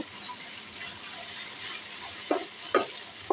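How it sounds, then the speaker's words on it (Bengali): Spinach with sesame sizzles in a frying pan, a steady close hiss broken near the end by two or three sharp scrapes of stirring. "এখানে আমি আরও কিছুক্ষণ ভাজা ভাজা করে নামিয়ে নেব পরিবেশন পাত্রে"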